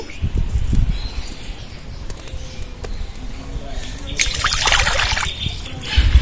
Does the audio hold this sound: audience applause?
no